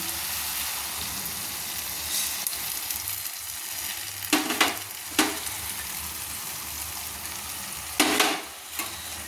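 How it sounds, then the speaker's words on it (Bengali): Poppy seed paste masala frying in a pan for a rui posto dish, with a soft continuous sizzle broken by several close, scraping bursts as the spatula stirs it around the pan. "মশলাটাকে এবার সুন্দর হালকা করে আমি কষিয়ে নিচ্ছি"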